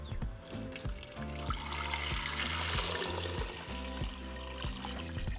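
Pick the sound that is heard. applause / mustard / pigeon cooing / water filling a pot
water filling a pot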